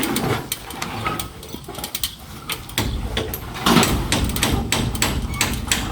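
Rapid hammer blows tapping out a quick, uneven rhythm close by, over a steady mechanical background noise.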